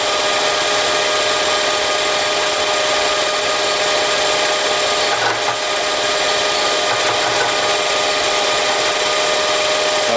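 A machine spindle runs loud and constant as it feeds slowly downward while a brazing job is being set up, giving a bright, steady power-tool whir with a faint scrape midway.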